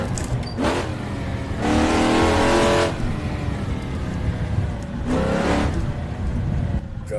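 A 1966 Ford Mustang Fastback V8 in the Assetto Corsa racing game revs hard in loud bursts, its engine note climbing and dropping through gear changes, with quieter gaps between pulls.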